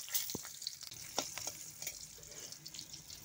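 Green chilies fry in hot oil in a kadai with a soft, close sizzle and crackle, broken by light stirring scrapes and small spits.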